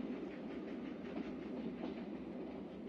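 Steady low rumble of a moving train on rails in the 1966 western The Good, the Bad and the Ugly, an even, continuous rolling noise with no talk.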